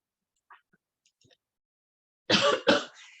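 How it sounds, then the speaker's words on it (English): Two quick, harsh coughs close to the mic after a mostly quiet stretch with faint small noises. "I don't know why I'm coughing all of a sudden"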